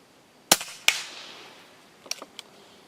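Two sharp, loud reports from an EDgun Leshiy air rifle firing pellets at full power, about a third of a second apart, followed by a few faint clicks from handling the gun.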